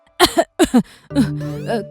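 A few sharp cartoon coughs from a sick character in a Hindi animated cartoon come in quick succession, close and loud, followed by a longer strained vocal sound.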